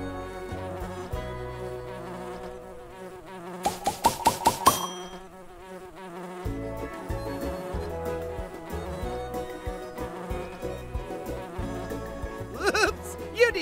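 A cartoon bee buzzes as it flies in a children's nature video game about pollinators; a short, dense buzzing burst rises over steady background music.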